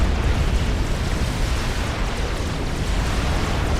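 Mobile missile launchers firing at a shielded position in Forged Alliance Forever, a dense, continuous roar of explosions and bursting impacts, loud and unbroken throughout.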